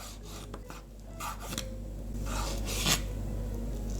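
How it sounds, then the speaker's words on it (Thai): A knife slices char siu red roast pork into thin pieces, several quiet close rasping strokes against a board over a low steady hum. "ทีนี้เราก็มาหั่น หมูแดงกันเลยนะครับหั่นแบบบางๆหน่อยนะ"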